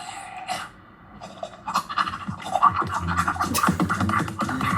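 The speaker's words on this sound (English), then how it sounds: "Fucking dogs on the counter." Dogs on a kitchen counter pant and scratch, with quick breathy bursts and scrabbling claws close by, fairly quiet and with no voices.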